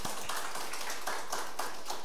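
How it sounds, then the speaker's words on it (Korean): A church congregation at a Sunday service claps in welcome, a soft, steady patter of many hands that is evenly paced and heard without talk. "박수 한번."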